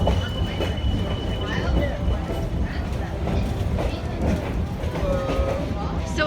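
Santa's train ride on a family road trip to the North Pole: a rail car rumbles and clatters along the tracks in a steady, close rolling noise, with people talking over it.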